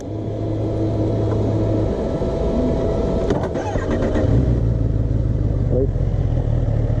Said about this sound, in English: the kids asked if he would allow them to rev his engine